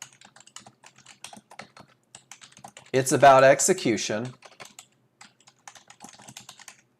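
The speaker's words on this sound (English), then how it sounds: "And I'm struggling with the typing here." Rapid clicking of fingers on a computer keyboard, close and fairly soft, continuing around a short burst of speech in the middle.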